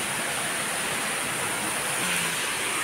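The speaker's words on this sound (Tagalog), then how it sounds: "Munay Falls diri sa level 2." Waterfall at Munay Falls, level 2 of Dayhag Falls in Boljoon, Cebu, a constant broadband rushing roar of falling water, steady and enveloping throughout, with no talking.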